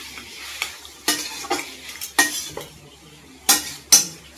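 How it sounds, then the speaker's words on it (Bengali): Meat being stirred and fried with onions in a pan for a chicken curry, a run of separate scraping stirs with sizzling and the clink of a utensil against the pan, close and fairly quiet, with no one talking. "ভালো করে পেঁয়াজের সাথে মাখতে নেব।"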